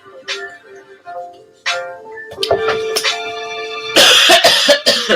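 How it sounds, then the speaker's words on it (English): A woman coughs a few times in short, dry bursts at close range, followed by rustling and clattering noise near the end. "Now, why am I coughing?"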